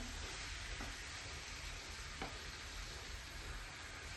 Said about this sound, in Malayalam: ഇതിലേക്ക് നമുക്ക് ഈ പരട്ടി വെച്ച നമ്മൾ ചിക്കൻ ഇതിനകത്തേക്ക് അതിനുശേഷം നമുക്ക് നന്നായിട്ട് ഇളകി കൊടുക്കാം